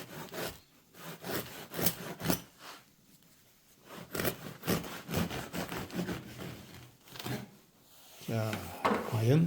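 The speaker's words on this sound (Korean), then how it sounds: "세 개를 먼저 먼저 구웠던 거 한번 잘라 보겠습니다" A bread knife saws through the crisp crust of a baked naturally leavened sourdough campagne loaf, giving close, rhythmic rasping strokes with brief pauses, while a person talks intermittently in between.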